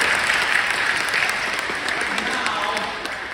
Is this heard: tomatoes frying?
no